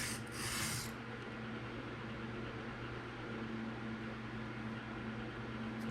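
A Kunwu knife is sharpened freehand on a Sharpal diamond stone, a steady close abrasive rubbing that runs continuously, with a brief louder hiss at the start, no talking.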